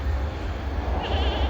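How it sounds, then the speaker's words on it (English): A goat gives one clear, wavering bleat out in an overgrown paddock by a creek, heard over a loud, constant low engine drone. "And the goats are loving it."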